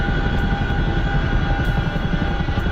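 Chinook helicopter in a flight simulator game, with a steady dense rotor and engine drone filling the cockpit, unbroken and fairly loud with no speech.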